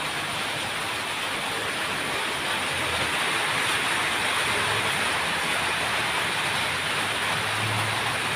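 Steady rain pours down in a dense, even hiss that stays constant from start to finish, loud and close with no voices over it.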